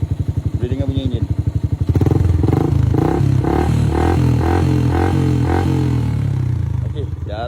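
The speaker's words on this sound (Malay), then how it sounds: "Boleh dengar bunyi enjin." A motorcycle with a stock engine and an aftermarket Espada exhaust idles with a fast putter, then revs up loud and close into a steady throbbing run that drops back near the end.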